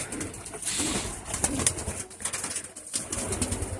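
Pigeons cooing softly and continuously against a rustling, noisy background, fairly close, with no voices.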